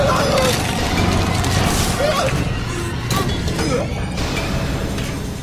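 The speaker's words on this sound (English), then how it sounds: "You got the elevator stuck." Elevator machinery jamming in the horror game Outlast: dense clanking, grinding and ratcheting noise with creaks and metallic knocks, loud and continuous, with voices partly mixed in.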